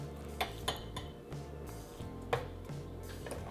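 A spoon clinks and scrapes against a mixing bowl while banana bread batter with sour cream is stirred, giving a few sharp taps over soft irregular scraping, close and fairly quiet with no speech.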